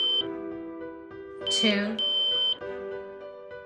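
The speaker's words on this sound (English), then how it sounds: "Each time you press a button, there will be one beep" A DIY smart lock keypad from the ML10/PL10 series gives a short electronic beep as a button is pressed, a clear tone standing out between bursts of spoken instructions.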